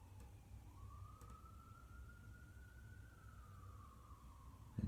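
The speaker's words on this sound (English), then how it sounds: "And them sirens." A faint, distant siren holds a long steady wail that slowly rises and falls, over a low background rumble, with a brief thump at the end.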